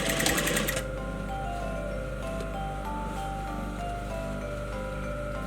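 A sewing machine stitches a men's shirt with a steady, continuous whirring rattle that runs without a break, preceded by a brief rustle of fabric at the start.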